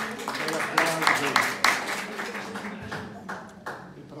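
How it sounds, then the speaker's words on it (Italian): Audience applause breaking out after a talk on the spirituality of Saint Francis de Sales, a burst of fairly close clapping with distinct individual claps that gradually thins and fades. "Un applauso"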